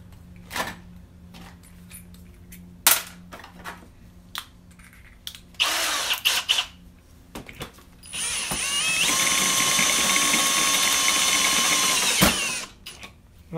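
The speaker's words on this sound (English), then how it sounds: "I'll bring you guys back when I get that drilled." A power drill bores into a 1953 Chevy truck during a PCV conversion, with short bursts and mechanical clicks first, then a long, steady, high-pitched whine lasting several seconds before it stops.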